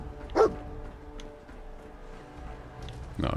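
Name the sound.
dog barking, Dogmeat companion in Fallout 4 video game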